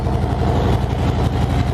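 Harley-Davidson Street Bob idling through Vance & Hines Short Shots exhaust, a loud, close, deep lumpy rumble with steady rapid pulsing throughout.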